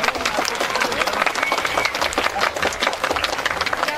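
Guests at a Turkish wedding applaud the bride, a lively, crowded burst of clapping with distinct sharp hand strikes over a dense background, steady and fairly close throughout.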